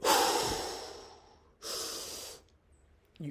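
A strong, breathy exhale during a weightlifting set comes in two forceful bursts close to the mic, with a short pause between them and a faint sound at the end.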